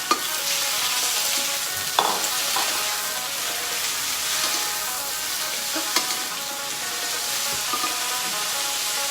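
Onion and glass noodles stir-fry in a pan with a loud, continuous sizzle. A few utensil scrapes and knocks stand out from the crackle, and no one speaks over it.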